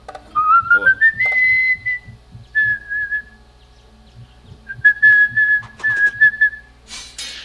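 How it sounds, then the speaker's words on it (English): A person whistles a wavering tune nearby, rising at first then holding and trilling notes, with a quiet gap before the melody resumes. "I don't know if you can actually hear me whistling or not"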